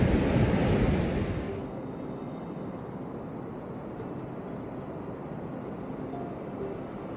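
Waves wash onto a beach, a loud rushing surge of surf up close that subsides into a steady, softer wash with wind noise.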